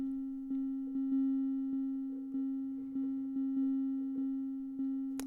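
Synthesizer sine wave with the decay fully open, a steady pure tone pulsing in repeated notes roughly every half second, each attack swelling and slowly fading, clean and alone.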